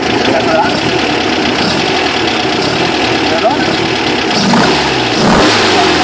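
VW Brasilia engine revving at an outdoor event while being tuned, running steadily with loud mid-pitched churning and a few rising revs near the end, with people talking close by.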